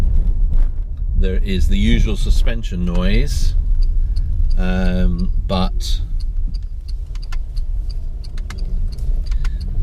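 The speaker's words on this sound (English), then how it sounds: "There is the usual suspension noise" Renault ZOE electric car driving over a rough road of many mixed surfaces in near-silent mode, steady low rumble of tyres and suspension throughout, with someone talking over it.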